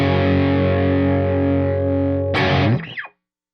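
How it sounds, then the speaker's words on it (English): An electric guitar played through an EarthQuaker Devices Zoar dynamic distortion pedal rings out as one loud sustained distorted chord, then a quick strum and scrape before the sound cuts off to silence. "I'm here to show you the Zohr Dynamic Audio Grinder."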